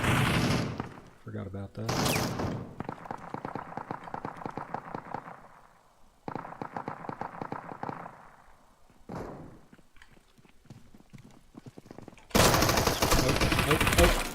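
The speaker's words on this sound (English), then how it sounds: "Oh, there's a turret there." An automated turret in the Deadside video game fires machine-gun bursts in several separated volleys, loud and sharp, broken by short quiet gaps. A player speaks briefly between the bursts.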